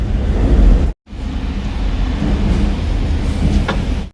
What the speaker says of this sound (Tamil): மேலே கேட்குற சத்தம் வந்து மெட்ரோவோட சத்தம்